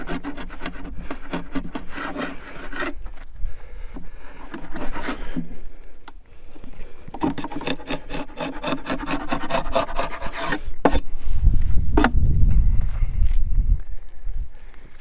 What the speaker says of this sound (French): gratter tout ce qui peut être impureté sur la ruche, propolis, cire